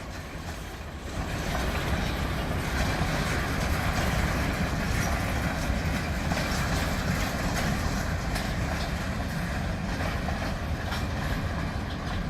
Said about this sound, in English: A30 is usually a grain train, as its destination from Red Deer is Stettler at the grain elevator.